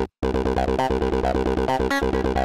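Rapid acid 303-style synth pattern from Serum, its wavetable tied to velocity so accented notes bite brighter; a steady stream of short pulsing notes after a brief silent start.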